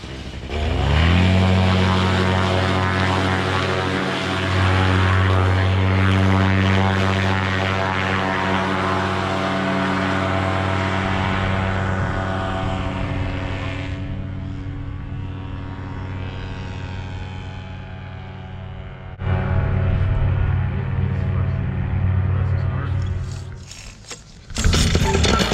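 A paramotor engine and propeller drone loud and close during a takeoff in a strong crosswind, a steady buzzing roar that eases partway through, then surges again near the end.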